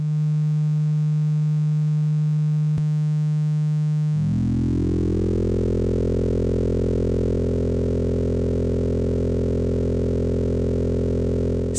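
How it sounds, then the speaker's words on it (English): FM synthesis from Buchla 158 dual oscillators, frequency-modulated by a 156M: a pure sine tone with a brief click, then a sudden shift into a dense, buzzing, harmonically rich drone that swells and holds steady, loud and continuous. "Sending the pitch input to both oscillators creates a more musical FM sound, in my opinion."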